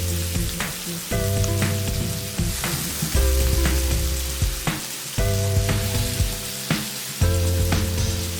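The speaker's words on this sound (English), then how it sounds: "Stir the onions until they are golden brown." Sliced onions stir frying in a pan for bhindi do pyaza, a dense close sizzle with repeated scraping strokes, backed by steady tonal hums that rise and stop in blocks.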